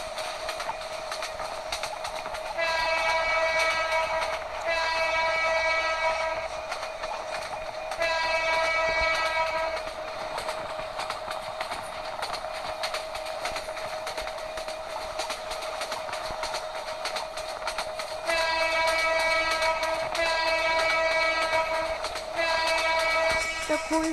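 Subarna Express running in Train Simulator Bangladesh, with a steady rolling rumble throughout and a loud horn blasting in several repeated long blows near the start, middle and end, no voices.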